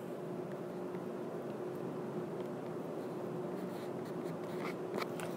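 Pen or pencil scratching steadily on paper while an equation is written out by hand, a faint, continuous rasp with soft tapping strokes toward the end, heard alone in a quiet room.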